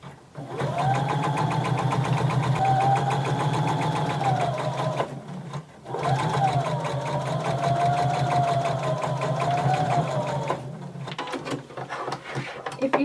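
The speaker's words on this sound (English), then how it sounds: "I'm going to put my needle in and I'm going to back stitch. And I'm going to sew all the way down one edge" A sewing machine stitches down the edge of denim in two long, loud runs of rapid steady whirring, broken by a short pause and followed by brief clicks and handling noises.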